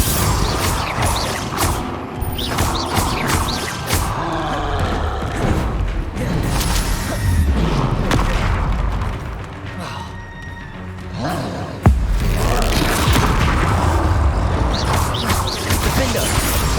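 Bombarda spell explosions in Hogwarts Legacy crash and boom amid loud, busy combat noise, with mechanical clatter, a sharp impact near the middle and voices talking throughout.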